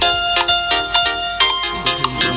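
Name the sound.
custom iPhone ringtone playing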